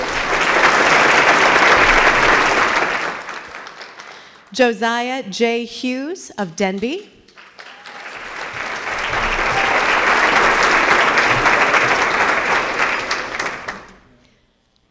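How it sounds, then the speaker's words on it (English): Audience applause at a student awards ceremony, a loud steady wash of clapping that breaks off while a man reads a name over the microphone, then swells again and fades out. "another round of applause, please"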